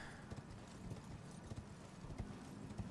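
A horse gallops in the video game Elden Ring, with a rhythmic clip-clop of hooves repeating steadily and faintly under low background sound.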